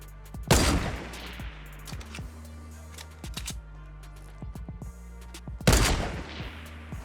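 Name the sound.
sniper rifle gunfire in Fortnite video game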